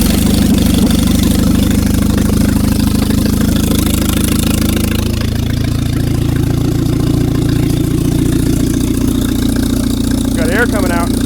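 An unused 70-year-old Rolls-Royce crate engine is turned over, giving a loud, steady low rumble and mechanical churning that continues throughout, with faint chirps near the end.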